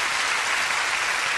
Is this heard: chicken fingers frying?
no